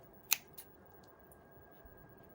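Sharp scissors snip small notches into a sock: two quick faint snips close together, then quiet room tone.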